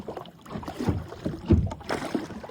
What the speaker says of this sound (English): on a Saturday morning, we out here kayaking